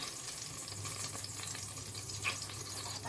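Onions going into ghee in a pan, a soft steady sizzle across the whole moment with one brief brighter crackle near the end, no talking.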